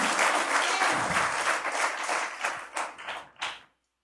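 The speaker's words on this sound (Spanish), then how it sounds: "Si vas a aplaudir, hazlo con toda la fuerza, porque es para el Señor Jesucristo" A church congregation breaks into loud, dense applause that holds strong, thins into scattered claps and stops abruptly after about three and a half seconds, leaving silence.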